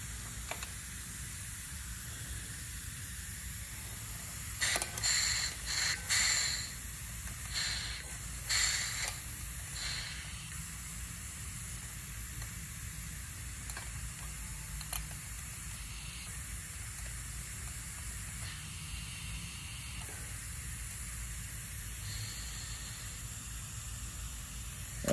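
Air hissing steadily from the nozzle of a Fisher 3582 positioner being mounted and calibrated, a faint continuous hiss close by, with a few louder mechanical clicks and bursts partway through.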